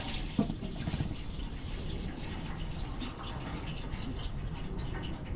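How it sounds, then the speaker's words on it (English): Diesel fuel from a drained LBZ Duramax fuel filter pours into a drain pan, a steady liquid splash and trickle running for several seconds at moderate level. "full of fuel. So I'm gonna dump this in the pan."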